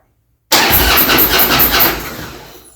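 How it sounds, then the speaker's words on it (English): A Twin Cam motorcycle engine in neutral cranks and fires after cleaner was sprayed into its idle air control, then settles into a loud, close, rough idle that fades slightly. "Because I sprayed cleaner in there, it's gonna take a second to start."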